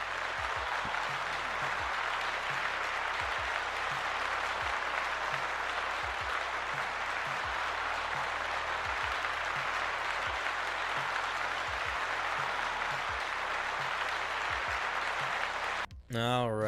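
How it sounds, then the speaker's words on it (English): A live audience applauds loudly and continuously for about sixteen seconds, a dense even patter of clapping that cuts off abruptly at the end. "Let's give Ross a big round of applause."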